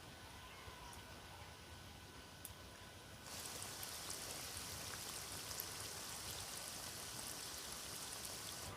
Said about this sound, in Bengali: ঠিক একইভাবে তেলটাকে একটু ঠান্ডা করে নিয়ে সেকেন্ড ব্যাচটাও ভেজে নিচ্ছি